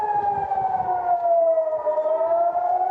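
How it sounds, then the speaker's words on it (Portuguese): A loud civil defense air raid siren wails steadily during an Iranian missile attack, its tone sliding slowly downward and then rising again, with no voices over it. "na gravação dá para ouvir, inclusive, a sirene de alerta dos bombardeios tocando"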